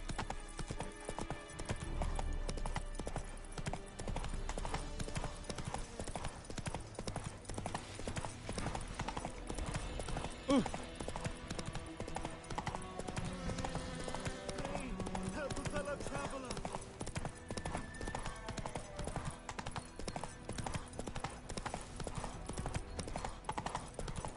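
Horse Roach's hooves clip-clop in a steady trot through The Witcher 3, continuous and fairly close under game music and ambience, with voices talking over parts of it.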